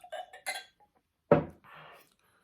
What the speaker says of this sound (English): got my Glencairn glass